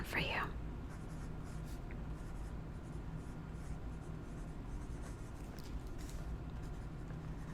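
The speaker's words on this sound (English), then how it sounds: "I'm going to write that down for you." A pen scratches across paper in quiet, close strokes at an even pace, soft and intimate, with faint whispering in the background.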